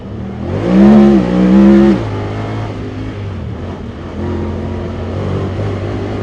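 A Honda Talon side-by-side with a 2-cylinder 1000cc engine revs hard on a mountain trail, a loud rising rasp that climbs and holds for a second or two, then drops to a steady nearby drone.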